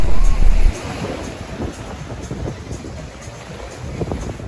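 Waves wash onto the public beach at Playa del Carmen, a continuous rushing surf mixed with gusty wind buffeting the microphone, loudest in the opening second and steady afterward, with no talking.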